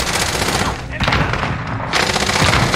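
Gunfire in the video game Call of Duty Warzone, loud sustained bursts of automatic fire with a brief lull near one second and another near two seconds, close and dense throughout.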